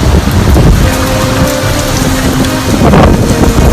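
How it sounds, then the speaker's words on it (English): Storm surge flooding into a building lobby during a storm, with heavy rain and strong wind roaring steadily and loudly up close, broadband and unbroken throughout, with no talk. "Storm surge is starting to fill inside the lobby."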